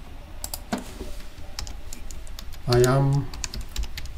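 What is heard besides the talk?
typing a text string on a computer keyboard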